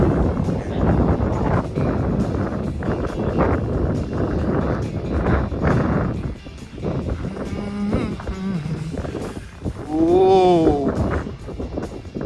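Steady wind rushing past the microphone outdoors in Ladakh in winter, loud and continuous, with a dog and voices faintly heard toward the end.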